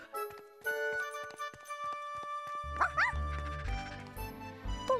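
A cartoon puppy gives a few short yips and barks over bright, twinkling background music, close and clear, with sliding whimper-like notes mixed in.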